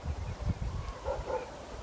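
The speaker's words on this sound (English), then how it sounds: "a few dogs barking in the background, very quiet" A few dogs bark in the distance in a quiet outdoor setting in Samaria on the Sabbath during Passover, faint and intermittent yips and woofs over a low background hum.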